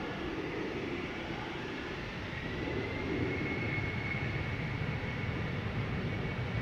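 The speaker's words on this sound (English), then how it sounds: "Embraer 190, rare Embraer." A KLM Embraer 190 jet departs Amsterdam Schiphol bound for Oslo, its engines making a sustained low rumble with a thin high whine running through it, moderately distant and steady, with no talk.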